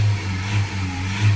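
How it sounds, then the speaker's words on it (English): A Ford Ranger 2.0 BiTurbo diesel with a P2002 particulate filter fault, revved while stationary: a loud, close, steady engine drone that swells briefly at the start and again at the end. "Give it a few revs up and down."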